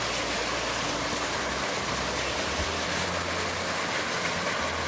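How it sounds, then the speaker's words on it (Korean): Mountain waterfall deep in a remote valley of Jeongseon, Korea, roaring as a steady, loud, broadband rush of falling water with no pauses and no voices. "여기 이런 폭포가 있네요"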